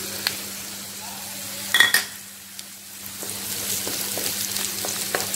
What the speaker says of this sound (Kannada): ಇವಾಗ ಟೊಮೆಟೊ ಹಾಕೋತಿದ್ದೀನಿ।